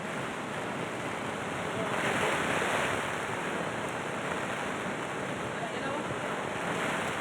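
Thoseghar waterfall in Satara, swollen by days of heavy monsoon rain, gives off a constant broad roar of rushing water, steady and dense with a slight surge partway through.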